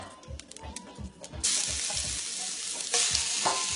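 Shrimp sizzle and fry in a pan with a tablespoon of olive oil, a soft stirring patter giving way to a loud, steady hiss that swells again as more shrimp go in.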